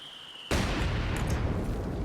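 A mortar shell explodes in the World War II strategy game Company of Heroes 2, a sudden loud boom after a faint tone, followed by a rumbling, crackling tail that lingers at steady loudness.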